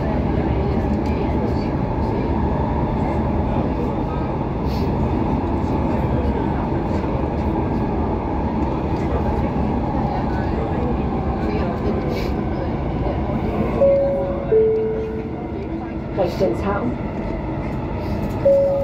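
A Copenhagen Metro line M1 train running, a loud, steady rumble of wheels and motors heard from inside the car throughout, with a recorded announcement and brief tones near the end.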